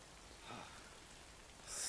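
Rain falls in the video game Death Stranding as a faint, even hiss of steady downpour, with a brighter swell of noise near the end.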